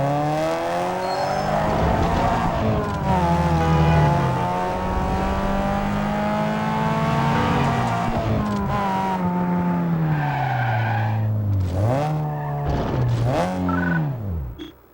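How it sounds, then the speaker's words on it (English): A stock Nissan 240SX in the racing game Need for Speed Underground 2, its engine droning and rising through gear changes with pitch sweeps and brief tire squeal, loud and continuous with no talk. "Compare the sound of this 240SX stock"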